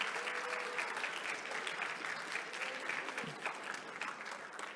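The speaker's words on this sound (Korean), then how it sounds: "긴장을 좀 풀 수 있도록 여러분들의 응원의 박수가 필요할 것 같습니다." An award ceremony audience claps in steady applause for a national youth startup competition, a dense, moderately loud patter of many hands with no talk over it.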